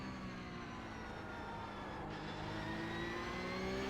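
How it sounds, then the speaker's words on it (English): Tires squeal through turns as a Porsche 911 Cup car (992.2) races at Hockenheim in a video game, a steady engine drone running underneath with thin, rising and falling pitched tones layered across the whole stretch. "you can hear my tires as I'm taking turns"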